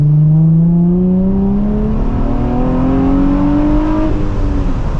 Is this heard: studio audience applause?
no